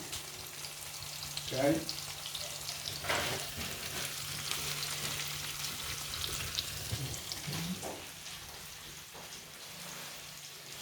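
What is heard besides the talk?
salame frying in a pan over onion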